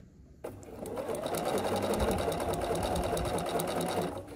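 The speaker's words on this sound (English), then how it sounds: "I like to back stitch at the beginning and the end" A sewing machine set to a short stitch length of about 1.6 stitches a foundation paper pieced star quilt block, with back stitching at the start. The motor starts sharply and then runs steadily and close for about four seconds, with no talk.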